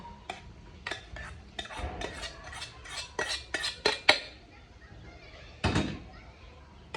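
Cooked rice is stirred together with a ready spice mixture in a pot for Syrian ouzi. A spoon knocks and scrapes against the pot in a brisk run of sharp clacks, then pauses before a final cluster of knocks.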